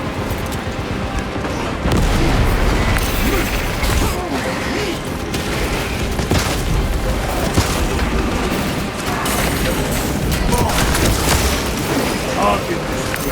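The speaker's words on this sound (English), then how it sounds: "Deploying frag grenade." Frag grenade blast in Warhammer 40K Space Marine, dense and loud within continuous heavy combat noise, booms and gunfire, with voices talking over the battle.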